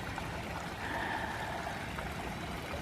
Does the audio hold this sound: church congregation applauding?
no